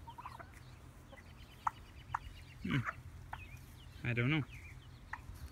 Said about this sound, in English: looks like one is a Buff Orpington Plymouth Barred Rock Cross and the other one is a Buff Orpington